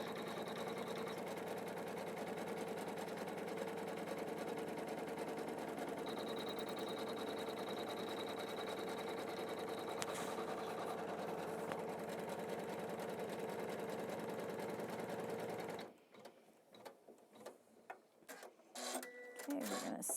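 A home embroidery machine stitches out a placement line for batting, a rapid, even mechanical whir and clatter running steadily and fairly quietly before stopping abruptly, followed by small handling clicks.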